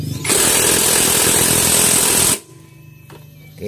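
A loud, steady rattling burr of a power tool, like an impact wrench, tightening a nut on an automatic scooter's CVT for about two seconds, then cuts off to near quiet.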